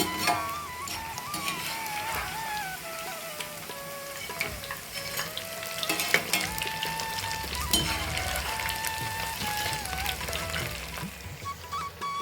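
Hot oil bubbling and sizzling steadily while Deepavali snacks deep-fry in a pan, a continuous close crackle with occasional stirring and pouring sounds, no talk.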